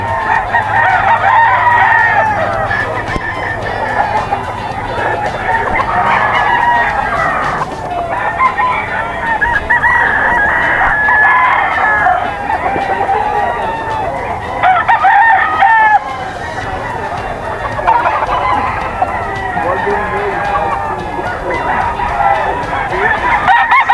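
Several roosters crow repeatedly and overlapping at a busy outdoor poultry market in Bocaue, with clucking fowl and crowd murmur underneath throughout.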